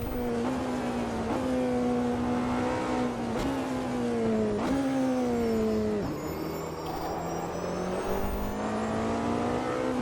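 Race car engine in the Le Mans Ultimate and Automobilista 2 racing sims, a loud continuous high-pitched drone that rises and drops with repeated upshifts and throttle lifts, heard alone without talk.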